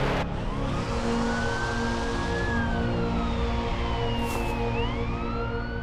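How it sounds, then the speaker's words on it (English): An ambulance or police siren wails continuously on a highway, its pitch sliding up and down in long sweeps over steady traffic rumble, fairly close and loud throughout. "Emergency vehicles on site."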